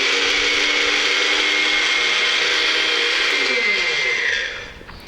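A Wonderchef Nutri Blend mixer grinder runs with a loud, steady high-pitched motor whine and grinding rattle for several seconds, then spins down and fades as it switches off.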